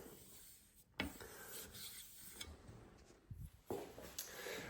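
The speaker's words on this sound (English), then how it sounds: "that took maybe about 10 minutes of hand sanding" Steady back-and-forth rasping of sandpaper on a metal knife blade by hand, close and quiet, with a few soft knocks between strokes.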